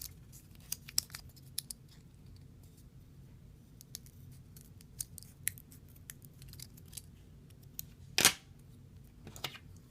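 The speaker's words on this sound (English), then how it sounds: "Okay, so now we'll take our Velcro. I usually just cut a little strip." Scissors snip through a small strip of Velcro, a series of faint crisp clicks and cuts scattered over quiet room tone, with one louder snap near the end.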